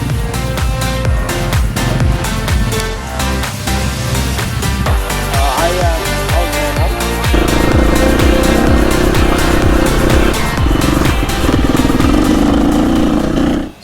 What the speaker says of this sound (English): waiting for the rest of the bikes to catch back up with us